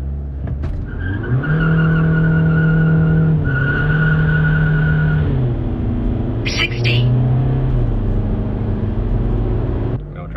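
VW common-rail TDI diesel car with a DSG gearbox launching hard, a loud steady engine drone rising through gear changes with a brief squeal midway and the engine note dropping near the end.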